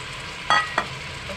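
Marinated chicken drops into a hot pan of oil with bay leaf for Malvani chicken gravy, giving a sharp sizzling burst followed by a second shorter hiss, close and fairly loud over a quiet background.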